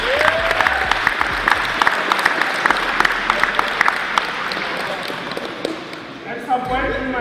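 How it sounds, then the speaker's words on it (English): An audience at a basketball festival and hall of fame event gives a round of applause, a dense, steady patter of clapping across the whole stretch, with voices mixed in underneath. "Let's give them a round of applause."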